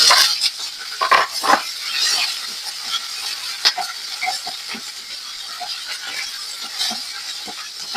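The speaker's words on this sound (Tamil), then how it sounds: "கருவேப்பில பச்சை மிளகாய் எல்லாம் நல்லா பொறி பட்டுட்டு" Curry leaves and green chillies splutter in hot oil over a low flame while a sprouted lentil fry is being made, giving close, steady sizzling hiss broken by sharp crackles and pops.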